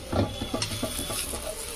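Chopped tomato lands in a hot pan for prawn-stem curry and is stirred, producing a wet sizzle with a rhythmic series of soft spatula scrapes and knocks, close and without talk.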